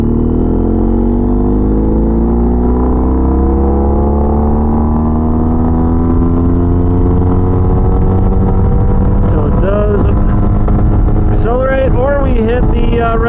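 A car engine in third gear at 60% throttle on a dyno tune pull, revving steadily upward toward a roughly 8,500 rpm limiter, loud and close, with rising harmonic whine and a voice talking briefly near the end.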